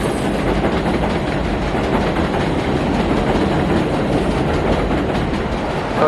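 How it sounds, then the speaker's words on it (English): Train passing close by on a New Jersey rail line, a loud continuous rumble and rattling clickety-clack of wagons that holds steady for the whole stretch with no talking. "Here goes the train."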